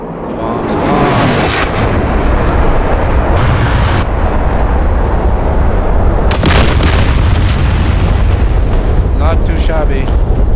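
Heavy bomb blasts from Digital Combat Simulator, a Mirage 2000C strike on ground targets over Syria: loud booming explosions with deep rumble and crackling debris, several impacts rolling into one another over about ten seconds.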